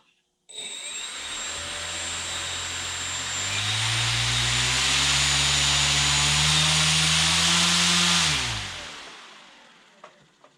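Arrows Husky SE RC plane with an upgraded 6s electric motor runs up from a start to a loud, steady high-pitched whine with rising tone, holds for several seconds, then spins down to silence, followed by a couple of faint clicks.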